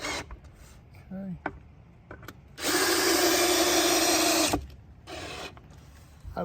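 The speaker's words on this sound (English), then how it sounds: "I like to drill myself" A power drill whirs loudly in a steady two-second burst driving screws into a wooden bench, with shorter quieter bursts before and after amid some handling noise.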